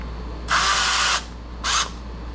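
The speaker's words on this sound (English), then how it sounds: "we're going to run an assortment of screws in just to let you see how they look going into wood" A power drill drives a 3/4 inch drywall screw into a 2x4, two bursts of hissy whirring, a longer run of about 0.7 seconds and then a short blip, heard close with no talk.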